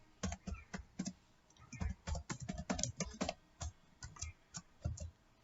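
Quick, irregular clicking bursts of keys on a computer keyboard as Java code is typed, close and fairly quiet, with short pauses between runs of keystrokes.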